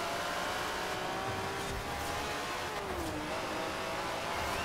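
A Mercedes drives in Forza Horizon 4, its engine holding a steady drone with rising and falling revs and a brief pitch sweep, continuous and fairly close.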